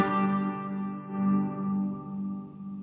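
A guitar chord rings out through the FlyRig 5 reverb pedal set to its size setting, leaving a long, sustained reverb trail that swells gently and slowly decays, with no voices.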